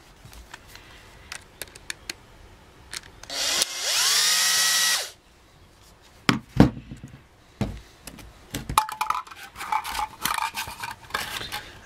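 A power driver spins out a screw from a disassembled Makita impact driver, one loud whirring burst lasting about two seconds, followed by scattered clicks and clatter of small metal parts being handled.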